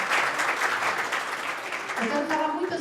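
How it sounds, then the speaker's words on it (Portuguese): A church congregation applauding in a dense, continuous patter that fills the room, with a voice speaking and a sustained tone rising near the end. "Você pode aplaudir o Senhor?"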